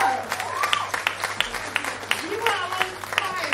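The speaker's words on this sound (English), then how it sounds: "Can we get a round of applause" Scattered audience applause at a live gig, with sharp individual claps rising over a murmuring crowd while people talk and call out through it.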